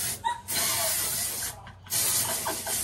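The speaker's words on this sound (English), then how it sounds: "is that sea salt spray?" Sea salt hair spray hisses out in two steady bursts of about a second each, close and fairly loud, split by a short gap, with a brief hiss just before them and faint voices in the background.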